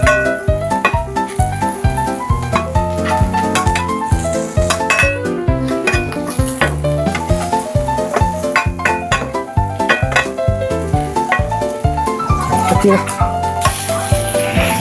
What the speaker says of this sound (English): I'm just going to push the onions off here to the side on the cooler part so that they stay